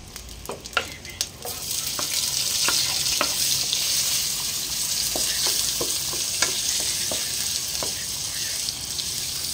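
Shrimp paste (bagoong) sautéing in a hot pan, a steady close sizzle and crackle running throughout with occasional sharp pops and spatters, no talking.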